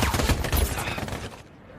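Gunfire in a war film set in Iraq, a sniper shooting from an exposed position, bursts densely in the first second and a quarter, loud and close, then tailing off into a fading echo.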